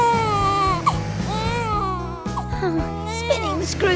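A cartoon character sobs and wails in high, wavering cries that break into short sniffles, heard up close over a bouncy background music bed.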